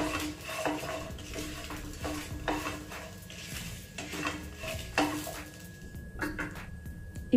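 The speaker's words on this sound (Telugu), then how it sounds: "పసుపు వేసుకొని ఒకసారి కలిపేసుకుందాము." Grated coconut and turmeric stirred in a pan, a spoon scraping and clinking against the metal in irregular strokes over a faint sizzle, close and moderately quiet, with no voices.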